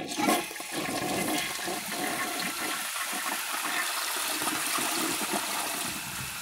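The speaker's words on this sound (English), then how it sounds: "because it's got a real nice flush" 2003 Gerber Maxwell toilet flushing with a strong rush of water, loud and close at first, then settling into a steady swirling drain that continues to the end.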